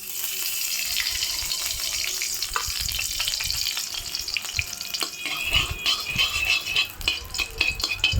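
Bay leaf, dried red chilies and cumin are tempered in hot ghee for a festive dalma, giving a steady, close sizzle and crackle with sharper popping bursts in the second half.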